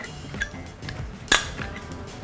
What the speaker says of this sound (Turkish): Kapağını kapatacağım.